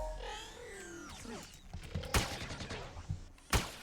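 Gunfire in a video game, a few sharp distant shots and short bursts scattered among clicks and creaks, fairly faint, with a low rumble at the start.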